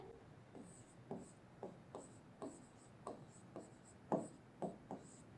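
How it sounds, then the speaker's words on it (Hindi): A pencil scratches across paper in a steady run of short strokes, about ten quiet close scrapes in a regular rhythm, with no voice over them. "अब पेंसिल से लिखते हैं हम लोग"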